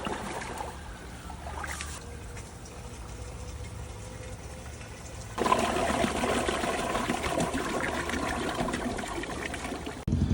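Water and deionizer resin from a spot-free mobile detailing filter are poured out, starting with a faint trickle and then a loud, sustained gush splashing close by.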